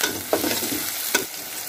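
Chopped onion frying in oil for a lau shak curry: a steady close sizzle with two quick stirring scrapes.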